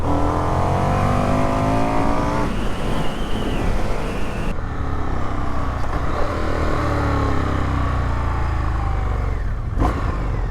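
A motorcycle engine revs loudly and steadily, pitch climbing and settling through several throttle blips, continuous engine roar close by with no talking.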